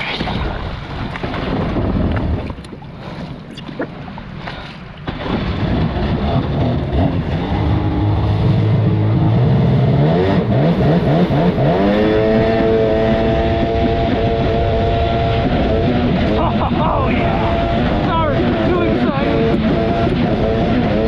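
A 1996 Sea-Doo XP jet ski runs with its engine pushing it out backwards, a loud, close, steady roar that rises in pitch partway through, mixed with water and wind noise.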